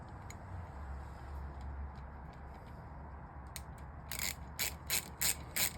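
A tool drives a Barkbuster handguard bolt into a 2024 Honda Transalp, ending in a string of quick, close ratcheting bursts over steady low background hum.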